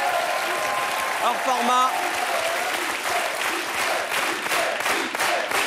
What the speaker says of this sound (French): Et Julien est le seul à ne pas applaudir